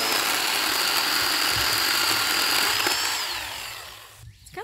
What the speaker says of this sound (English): For the chainsaw.